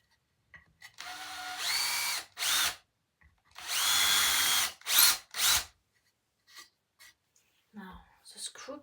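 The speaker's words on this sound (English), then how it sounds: "So maybe I will change it and go to a bigger drill bit." A power drill with a bigger bit bores into wood in several loud bursts, some with rising motor pitch, separated by pauses and a few quiet handling clicks near the end.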